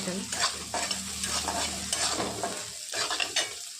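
Asafoetida and turmeric stirred into hot oil for a besan-thickened fenugreek dish, a steady sizzle broken by repeated scraping strokes of a spoon across the pan, close and fairly loud with no talking.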